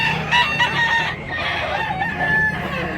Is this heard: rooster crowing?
yes